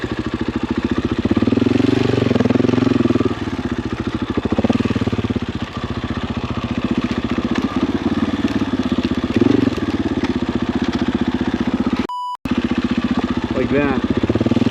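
A dirt motorcycle's engine thrums and revs continuously while riding a rough, dangerous Idaho trail, loud and close, with one brief dropout near the end.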